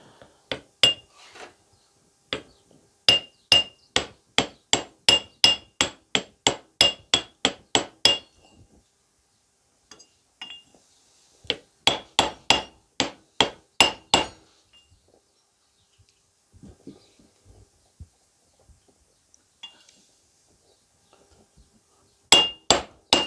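Hammer tapping a part home on a 1972 MG Midget: quick rhythmic bursts of sharp metallic blows with short pauses between, close and clear, ending with a final few strikes.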